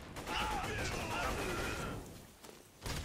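Rapid elemental SMG gunfire in Borderlands 2 rattles as a dense, continuous burst for about two seconds, then drops off into quieter game sounds before another short blast at the end.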